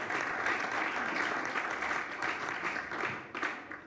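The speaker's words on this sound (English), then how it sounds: "big applause." Applause from the audience at a mobility and sharing economy panel in Berlin, a lively patter of many hands that stays fairly steady, then thins out and fades toward the end.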